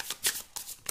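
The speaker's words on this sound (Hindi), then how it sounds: "मैं पहले सारे कार्ड्स निकालती हूँ" Tarot cards shuffled and drawn from the deck, giving several quick papery riffling bursts with short gaps between them, close and fairly quiet, with no voices.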